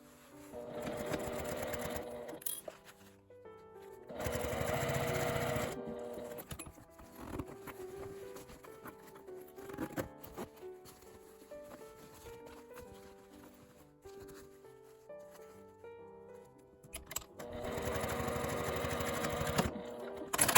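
A sewing machine runs in several steady bursts of rapid stitching, sewing lining fabric to a zipper with a 5 mm seam allowance for a box pouch, separated by quieter pauses with small mechanical clicks and handling noises.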